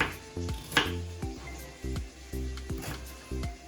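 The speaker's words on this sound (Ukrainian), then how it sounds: "нарізаємо, міленько подрібнюємо нашу цибулю" A knife chops rapidly on a cutting board, a steady run of crisp, close taps as a red onion is finely diced.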